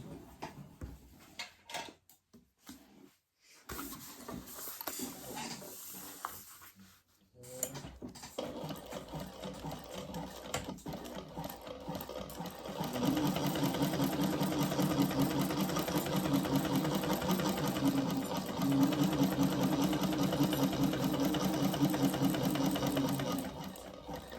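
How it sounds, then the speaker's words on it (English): A sewing machine top-stitches a laptop bag, starting with short bursts and then running steadily and loudly in a continuous, even mechanical whir, close up, with no talking. "I'll top stitch from this side"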